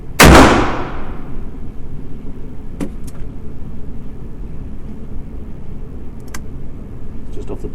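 A pre-WW1 French cavalry revolver fires one loud, sharp shot right at the start. Its report rings and decays over about a second, then gives way to quiet outdoor background with a few faint clicks.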